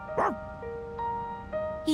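Koromaru, the dog in Persona 3 Reload, gives a short bark or yip near the start, followed by a steady game tone with music-like harmonic lines and another brief burst at the end.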